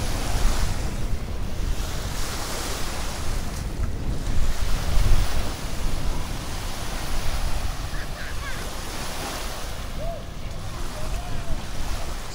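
Waves roll onto the beach at Santa Ponsa, Mallorca, with strong wind buffeting the microphone, a constant roaring wash of surf and gusts that rise and fall throughout.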